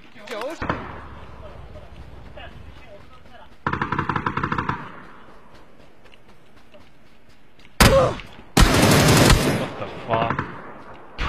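Bursts of SKS rifle fire in an online shooter game come in a few sharp, loud clusters, with a player's voice heard around the shots.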